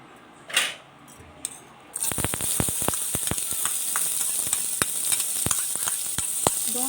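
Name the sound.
chopped onions frying in a pan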